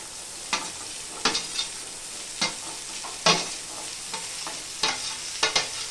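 Chopped okra sizzles in a hot pan, a steady close frying hiss broken by sharp scraping bursts as a spoon stirs it several times, with no talking.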